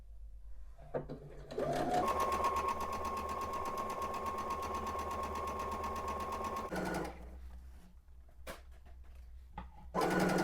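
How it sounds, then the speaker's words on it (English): A sewing machine runs a long continuous stitch joining two quilt fabric pieces with a quarter-inch seam, a steady close whirring hum lasting several seconds, then stopping amid a few handling clicks and a brief restart. "I'm going to sew those 2 together with a 1/4 inch seam allowance"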